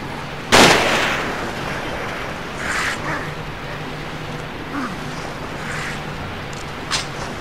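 A single loud gunshot in Forbidden Siren cracks sharply near the start, followed by a few fainter distant bangs over a murky ambient background.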